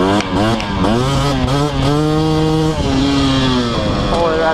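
KTM 250SX two-stroke dirt bike on a muddy rocky mountainside, its engine revving hard and held near full throttle with rising and falling pitch, loud and close throughout.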